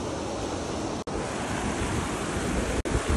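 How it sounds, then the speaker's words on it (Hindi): Water rushes steadily in a mountain stream beside a ridge during heavy rain, a dense continuous roar broken by two brief cuts, with no voices. "आवाज़ सुन रहे हो पानी की?"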